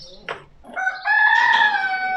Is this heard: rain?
no